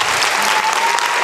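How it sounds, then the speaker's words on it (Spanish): Loud, dense applause from a church audience at a live worship music session, steady clapping filling the space with a faint voice tone running through it. "Para dar un aplauso fuerte a Cristo Jesús"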